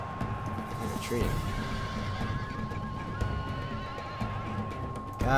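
Horses neigh and whinny amid the clatter of a Medieval II Total War battle, with a loud neigh rising at the end over a dense din of clip-clopping hooves and fighting.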